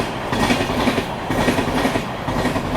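The Chennai–Jaipur Superfast Express runs along the tracks with a loud, close rumble and rhythmic clickety-clack of wheels over rail joints, heard alone without talk.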